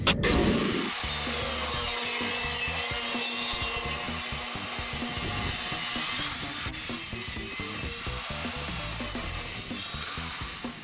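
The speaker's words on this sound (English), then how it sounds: "I'm going to cut up this old 2x4 right here to make the ones I need" A power saw cuts through an old wooden 2x4, making a loud, steady buzzing whine with a gritty rasp of wood that holds for about ten seconds, close and without speech.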